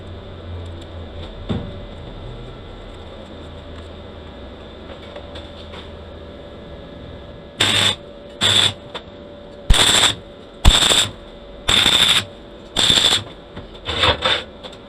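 Tack welding galvanised steel for a Scorpion grinder pedestal stand: after a quiet stretch, seven short crackling buzzes of welding arc, each lasting under a second, loud and close with brief pauses between.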